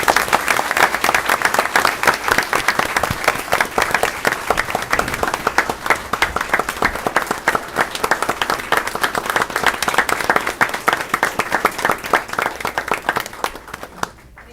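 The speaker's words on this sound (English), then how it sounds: "let's everybody give Ms. Holliday a round of applause" An audience at a school board meeting gives a sustained round of applause for a staff member, steady dense clapping at close range for about fourteen seconds before it tapers off at the end.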